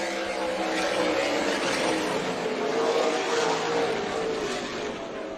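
Several race cars roar around the small oval at Tucson Speedway, a loud, continuous engine drone with shifting pitch as cars pass close together, steady throughout with no talk over it.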